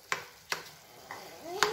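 A spoon stirs and mashes potatoes and onions in a pan: three sharp knocks against the metal spaced apart, with a soft scrape and a faint squeak near the end, close and fairly quiet.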